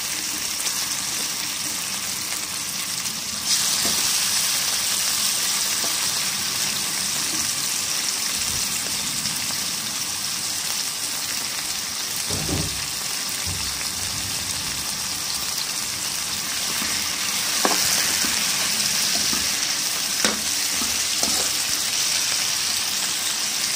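Chicken pieces added to a pan with onion, giving a steady hiss of frying oil throughout with a few brief louder sizzles and clatters, no one talking.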